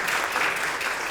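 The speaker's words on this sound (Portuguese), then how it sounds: "uma salva de palmas para a nossa graduação" An audience in a university round-table session applauds, a brief burst of continuous, crowded clapping that stays at even loudness with no talk on top.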